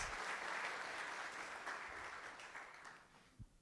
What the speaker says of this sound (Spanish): Dar un aplauso fuerte a Dios